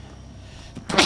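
A single sharp sneeze bursts out near the end, loud and close after a stretch of quiet room hiss, during an online Dead by Daylight gaming session.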